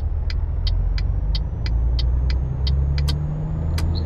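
A truck engine drones steadily while driving, a low, even rumble with a regular series of sharp clicks ticking above it.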